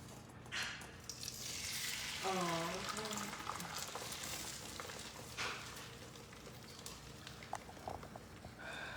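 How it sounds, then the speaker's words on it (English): Eggs are poured into a hot pan and fry with a steady, close sizzle at breakfast, under people talking in a home kitchen. "let's go ahead and dump this eggs in here"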